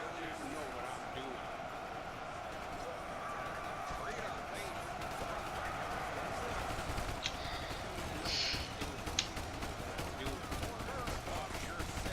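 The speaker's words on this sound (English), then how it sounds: "look at all those Americans shooting up at that hill straight all the way up there" In the game Ultimate Epic Battle Simulator, a huge WWII US-versus-Japan battle plays out with dense, continuous distant gunfire crackling beneath someone talking.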